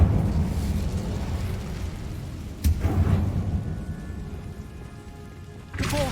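Incendio fire spell cast in the Hogwarts Legacy video game: a sharp burst at about 2.6 seconds, then a second one near the end, over a dense, rumbling game soundscape.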